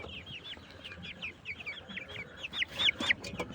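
Twenty-seven-day-old colour bird broiler chickens on a farm, some of them sick, cluck and chirp in a soft, continuous chatter with a few louder calls near the end.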